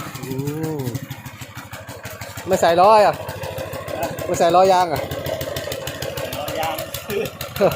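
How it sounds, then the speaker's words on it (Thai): A mini tractor's small engine chugs steadily throughout, with someone talking loudly over it in bursts. "มาดูรถไถเล็กครับ"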